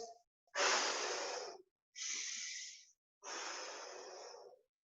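Three forceful exhalations during a workout circuit, each a broad breathy rush of air lasting about a second, separated by short pauses, close and loud with no talking over them.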